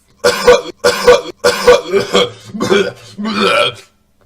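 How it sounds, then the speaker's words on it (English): A person coughs loudly and repeatedly at close range, several harsh bursts in quick succession followed by a longer, rougher hack. "I got a cough."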